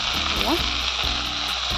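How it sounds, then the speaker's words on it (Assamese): Steady, close sizzle of potatoes frying in a pan, with brief scraping stirs cutting through the hiss. "আলুখিনি ভালদৰে অকণমান ভাজি লওঁ"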